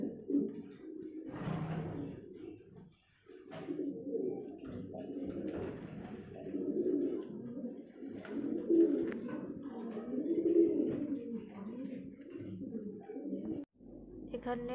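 A pair of feather-footed Muhuret pigeons coo in a steady, low, rolling stream for about fifteen seconds, close and fairly soft, with a couple of brief pauses and a faint voice at times.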